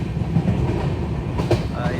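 The Shatabdi Express from New Delhi to Kalka (train 12011) rolls along the tracks with a steady low rumble and faint rhythmic wheel clatter, heard from inside the carriage.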